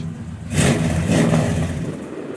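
A 1967 Chevrolet Chevelle SS 396 V8 with a mild cam revs up close in two quick surges that fall back to a lumpy idle, loud and without talk.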